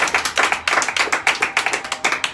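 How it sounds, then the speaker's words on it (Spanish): A church congregation claps hands together in a quick, steady rhythm, the dense clapping filling the space with no voices above it. "Alguien dele palmas"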